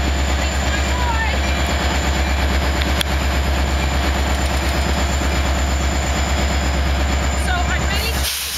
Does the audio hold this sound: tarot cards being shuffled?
no